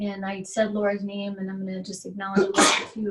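A person talks steadily, then a sharp, breathy sneeze bursts out near the end, loud and close.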